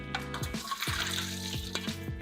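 Water splashing and gurgling as it is drained off freshly cooked vegetables in a kitchen, a steady close pour with a low, sustained tone underneath and no speech.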